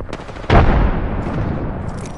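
Gunfire in the video game Apex Legends: a sharp loud burst with a heavy low boom, followed by a sustained rumbling roll of shots and battle noise that fades slightly toward the end.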